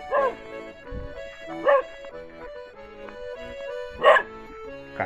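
A small dog yaps three times with sharp, high barks spaced a second or two apart, over a steady humming background, on a rural property in Coluna, Minas Gerais.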